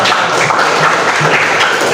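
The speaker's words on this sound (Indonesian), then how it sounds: "sudah beri tepuk tangan dulu untuk kelompok" Classroom applause for a student group, a steady wash of many hands clapping at close range that fills the whole moment without a break.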